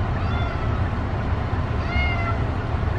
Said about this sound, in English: You're sure meowing a lot.